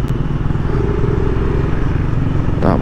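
A Raider 150 motorcycle with small wheels and a racing setup passes on the road, its engine giving a steady, fairly loud drone throughout with a brief rise near the end.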